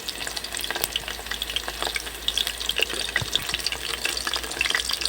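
Chicken pakoras fry in hot oil with a steady crackling sizzle. Faint pops and bubbling carry on throughout, close by and fairly quiet, with no talking.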